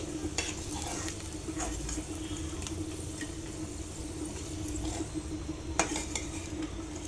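Garlic frying in hot oil in a pan, a quiet continuous sizzle with scattered stirring clinks and scrapes of utensil against the pan.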